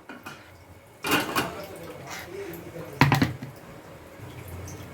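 Tamil home kitchen where a thick ground chutney for a thuvaiyal omelette is scooped into a bowl: two bursts of close metal utensil clinks and scraping, the second the loudest, over a quiet room.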